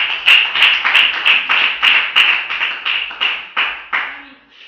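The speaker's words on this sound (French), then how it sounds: "Acclamons le frère." A church congregation clapping in a steady rhythmic beat, about two claps per second, loud and close, slowing and fading toward the end.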